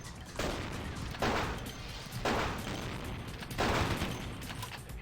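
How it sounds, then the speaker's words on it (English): Gunfire from a 9mm pistol in the video game Vampire: The Masquerade – Bloodlines, with four loud, evenly spaced shots, each ringing out briefly. "we'll go back to the 9mm pistol"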